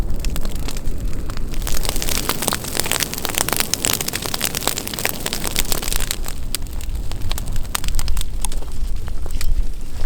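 An outdoor prescribed burn crackling and popping loudly and continuously, dense snaps and rustling flames up close, driven by wind at the fire's back, with no voices.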